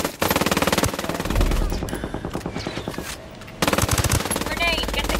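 Rapid machine-gun bursts and gunshots crackle loudly in the Ghost Recon Wildlands video game, in rattling volleys broken by short pauses, with voices speaking over parts of the firing.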